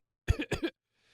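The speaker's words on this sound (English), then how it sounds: "Lalger has short, dry coughs and waves her hand to comfort me." Short, dry coughs from a female video game character, four quick bursts in a tight cluster, close and clear, followed by near silence.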